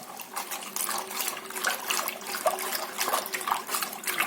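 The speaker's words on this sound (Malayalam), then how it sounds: "ഇനി നന്നായിട്ട് വെള്ളം ഒഴിച്ച് 2-3 പ്രാവശ്യം ഒന്ന് കഴുകിയെടുക്കാം." Cut bilimbi fruit pieces are rinsed under running water in a vessel, giving a continuous close splashing and trickling with small irregular bursts, and nobody speaks.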